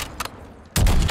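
An enemy sniper fires in a video game: one sudden, loud, booming shot breaks in after softer game ambience and rings on to the end.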